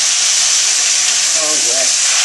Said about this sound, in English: I'm going to go ahead and add my red wine.